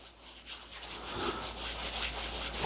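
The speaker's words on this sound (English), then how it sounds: "For this one, you always put on your hand and you have to rub it" Dried fenugreek leaves (kasuri methi) rubbed between bare hands into a fine dust give a steady, dry, papery rustling that swells and fades in short strokes, close up, with no talking.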